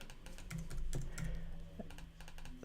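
Steady typing on a computer keyboard while entering a text label in Android Studio, with quick irregular clicks and a few heavier key strikes, close and fairly quiet with no talk.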